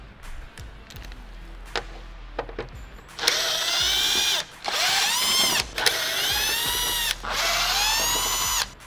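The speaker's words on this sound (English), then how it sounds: "We're gonna remove these 4 T15 screws." Power drill backing out T15 screws from a C8 Corvette panel: three sustained high motor whines separated by short gaps, preceded by faint clicks and handling noise, close and loud.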